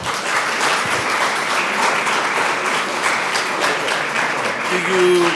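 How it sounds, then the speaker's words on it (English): At a fintech and cybersecurity summit, a crowd gives a loud, sustained round of applause, full and even from start to finish, with a faint voice surfacing near the end. "Give him a big round of applause"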